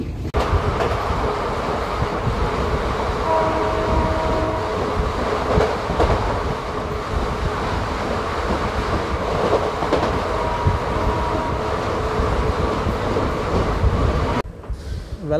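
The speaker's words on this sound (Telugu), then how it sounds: "శంకరపల్లి నుంచి కూడా మన ట్రైన్ బయలుదేరిపోయింది." The Palnadu Superfast Express, running from Shankarpally toward Lingampally, makes a continuous loud rumble heard from on board, with steady wheel and carriage noise and faint tonal whines, easing slightly near the end.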